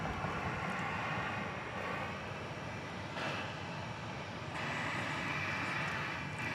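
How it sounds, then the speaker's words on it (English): A Boeing 737-800 airliner departs Dallas Love Field at night with a continuous, broad engine roar that swells slightly, dips, then rises again, heard from a fair distance without talk. "Headed out to San Antonio is flight 2662, a 737-800"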